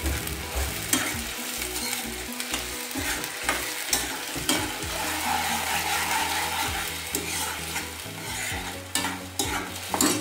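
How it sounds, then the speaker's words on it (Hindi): A wet masala of ground onion, tomato and ginger sizzles and fries in a pan while a spoon stirs it with steady scraping strokes, close and continuous for the whole stretch, with no talking. "ये गीला मसाला हमने इसमें डाल दिया है। अब इसको 2-4 मिनट हम हिला लेते हैं।"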